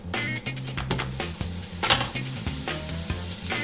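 Butter with olive oil sizzles in a frying pan while cooking oxtails, a continuous crackling hiss that holds steady throughout with a low tonal hum running beneath it.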